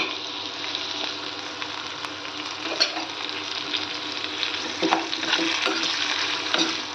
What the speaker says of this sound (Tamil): இதையெல்லாம் இதில் போட்டு வதக்கணுங்க